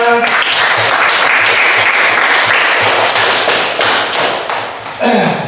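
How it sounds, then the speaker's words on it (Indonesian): A school class applauding together, loud and close, a thick rapid clatter of small hands with some thumping, sustained almost evenly before dipping briefly and picking up again at the end. "Berikan tepuk tangan buat semuanya."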